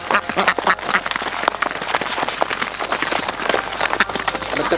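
Flock of egg-laying ducks on a farm quacking constantly, many overlapping calls at close range with a pattering, rain-like background texture.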